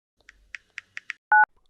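A telephone keypad dials out with five short, evenly spaced tones, followed by one longer, steady dual-pitch ring tone, clear and isolated.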